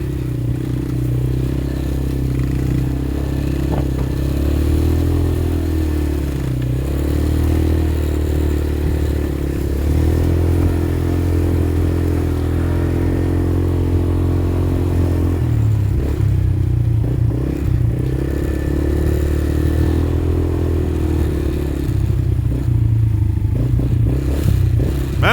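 Dirt bike engine droning steadily at close range as it rides through wet, puddled ground, the pitch rising and falling with throttle, with some clatter and scraping underneath.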